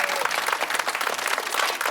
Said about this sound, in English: Don't clap, don't clap.